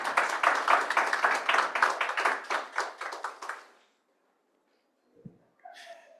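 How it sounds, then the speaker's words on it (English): Audience applause at a tech recruiting event in Japan, a dense burst of many hands clapping that swells and then tapers off over about four seconds, followed by silence and a small thump. "Please give a round of applause to Ito-san."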